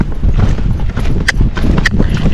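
A Tennessee Walking Horse cantering on a trail, its hoofbeats making a muffled rhythmic thudding close by under rustling and movement noise, with a couple of brief sharp sounds.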